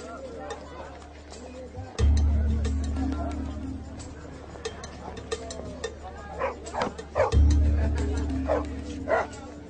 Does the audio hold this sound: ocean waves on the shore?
no